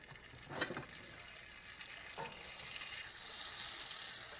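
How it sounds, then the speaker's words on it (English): Butter and oil sizzle softly in a hot frying pan, a steady quiet hiss with a couple of faint pops. "I'm going to add about a tablespoon of butter to my frying pan with the oil."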